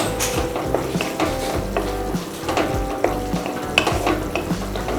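Onion, capsicum and red chili flakes stir-fried in a pan for dragon chicken, making a continuous loud sizzle with rapid, repeated scraping and clattering of the stirring utensil close by.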